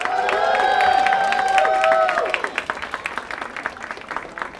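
A large crowd applauds and cheers for Megan Fox at an Apple Store appearance, with a dense, loud burst of clapping and whoops that thins after a couple of seconds into scattered claps.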